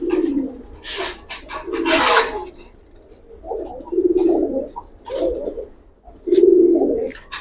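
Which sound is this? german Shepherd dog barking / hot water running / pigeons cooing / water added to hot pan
pigeons cooing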